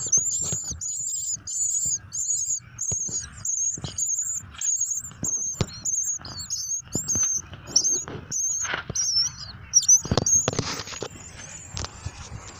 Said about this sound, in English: Newborn baby birds.